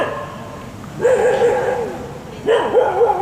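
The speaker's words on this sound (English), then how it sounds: "I'm going to go and tell those frigging dogs to shut up in a minute." Dogs barking outdoors in Pattaya, two loud, near bursts of yelping, whining barks separated by a short pause over low background hum.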